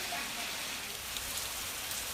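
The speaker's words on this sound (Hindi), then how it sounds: "कई घंटों तक यहां मूसलाधार बारिश हुई" Torrential downpour in Dharamshala after hours of heavy rain, a dense, steady broadband hiss of rain hammering surfaces, loud and continuous with no pauses.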